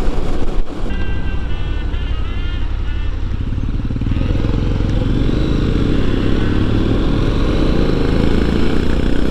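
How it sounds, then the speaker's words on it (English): A small motorcycle cruises steadily at about 100 km/h on a country highway past Gawler, South Australia, giving a constant close engine drone mixed with heavy wind rush throughout, with no talking. "The little bike in front of me is doing a brilliant job. It just cruises along at that speed."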